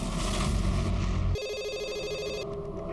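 A telephone rings loudly, a harsh buzzing tone that shifts into a bright electronic trill, with a low rumble underneath at the start.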